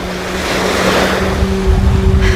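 Jet skis running on a lake give a steady motor drone with two sustained engine tones, mixed with water and wind noise, with no speech.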